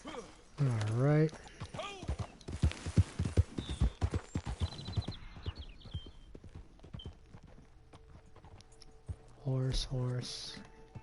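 Horse hooves clip-clop in Red Dead Online in a steady, close rhythm, with brief whinny-like calls at the start and again near the end.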